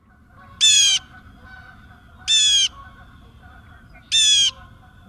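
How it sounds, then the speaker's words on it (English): Three harsh, evenly spaced blue jay calls ring out loud and close, with faint honking of distant Canada geese underneath. "It is a blue jay, and there's some Canada geese in the background."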